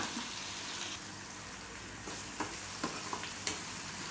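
Onion mixture sautéing in a pan for a brinjal and shrimp chutney, a steady soft sizzle with a few light stirring clicks toward the end, no talking.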